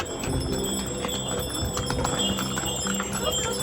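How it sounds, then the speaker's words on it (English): Donkeys used as transport on a hillside path in Santorini, Greece, their hooves clip-clopping steadily on the ground amid continuous background noise and faint bell-like tones. "Donkeys."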